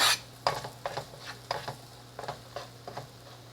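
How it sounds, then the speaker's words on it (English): Onions being sautéed in melted butter in an all-purpose pan, with repeated rhythmic stirring scrapes and soft clatter over a faint steady sizzle, close by and fairly quiet, with no talking. "melting 1 inch of butter in a pan and then sauteing our onions for just about a minute"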